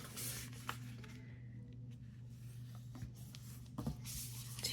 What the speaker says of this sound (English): I am going to fold it in and then use my bone folder